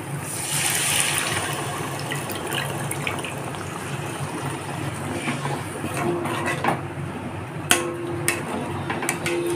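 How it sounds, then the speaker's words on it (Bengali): Hot water is poured into a frying spice paste for a rohu fish curry with sesame and cashew, a steady splashing and sizzling wash up close, ending in a few clinks of a utensil. "এখন এর মধ্যে গরম জল অ্যাড করব, আর খুবই সামান্য পরিমাণ।"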